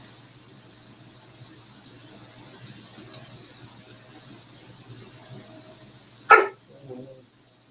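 A dog gives a single sharp bark close by after several seconds of quiet room hum, followed by a softer short yip.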